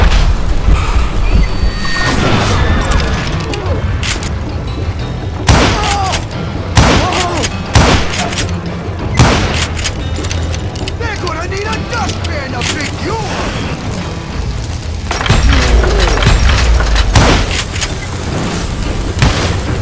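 Revolvers and rifles fire again and again in the Western shooter game Call of Juarez Gunslinger. The loud, dense volleys of shots and booms come with clattering game effects and some talk.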